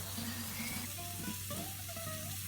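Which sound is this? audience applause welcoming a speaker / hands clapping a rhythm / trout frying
trout frying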